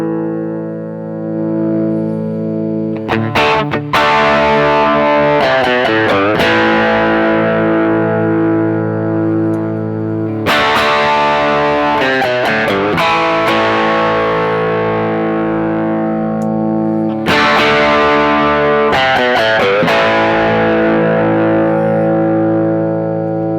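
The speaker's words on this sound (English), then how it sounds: "So this is overdriving now." Electric guitar played through a Brothers AM pedal set to overdrive, loud distorted chords strummed in three repeated phrases, each ringing out with sustained, buzzing harmonics and no voices.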